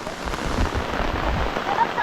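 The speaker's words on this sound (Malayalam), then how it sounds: "ആ ഒരു മഴയും എന്ത് രസമാണ് നോക്കിയേ" Steady rain falls at sunset in Kerala, a dense continuous hiss with low rumbling underneath, fairly close and constant, with faint voices in the background.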